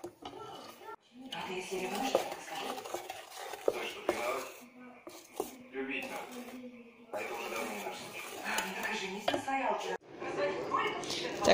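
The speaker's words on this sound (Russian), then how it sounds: "Делаю опять пряничное тесто." Gingerbread dough is mixed in a home kitchen, with close stirring, scraping and clattering of a bowl and utensils. A voice talks on and off over the work.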